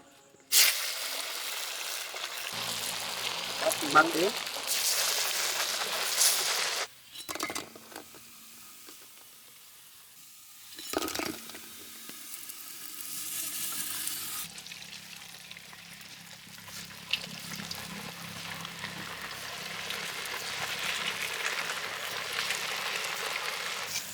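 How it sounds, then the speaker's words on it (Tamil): Maggi manchurian balls frying in hot oil outdoors in a village kitchen, a steady crackling sizzle with bursts of bubbling that fades briefly and returns, with rain drizzling around. "இப்போ வந்து நல்லா பொரிச்சு எடுத்துக்கலாம்."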